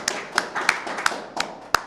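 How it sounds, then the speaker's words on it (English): Hands clapping at a poetry night on stage: six or seven separate, sharp claps at an uneven, unhurried pace, close and clear, with no talking over them. "I'm going to clap for you for being here."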